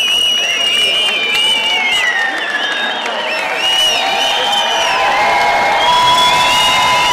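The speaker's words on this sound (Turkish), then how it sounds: "Sevgi seliyle, büyük bir sevgi seliyle, alkışlarla çıkış yapıyorlar." Crowd at Vienna Airport welcoming home the Austrian military search-and-rescue team with sustained applause, cheering and high whistles, loud and close throughout, with voices mixed into the din.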